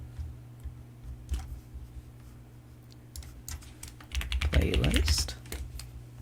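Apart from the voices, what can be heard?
typing on a computer keyboard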